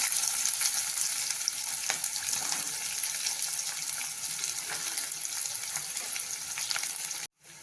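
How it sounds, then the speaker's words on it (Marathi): Onion and cumin seeds frying in a pan, a steady close sizzle with faint scraping, running continuously until it cuts off abruptly near the end. "भाजी झाली की जिरं टाकून घेऊ मग आपल्याला कांदा टाकून घ्यायचा छान"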